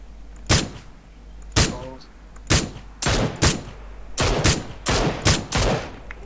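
Gunfire in the video game PUBG Lite: a series of sharp, loud shots and short bursts in an irregular rhythm, separated by brief quiet gaps.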